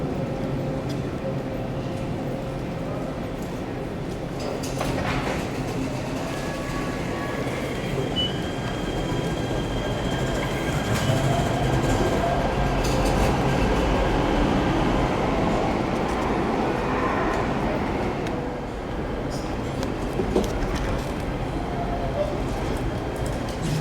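A metro train rumbles through the underground 7th Street Metro station in Los Angeles on a holiday schedule, steady low roar with rail noise and occasional squeals, some people speaking faintly in the background.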